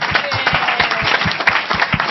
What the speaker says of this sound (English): I want everyone to give a round of applause for themselves for coming out tonight for this conversation.